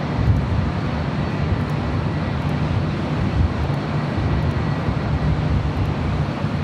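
An Air Canada Boeing 737 MAX 8 arriving from Vancouver lands on runway 24 left at LAX, a loud continuous broadband jet roar with wind, without any voices.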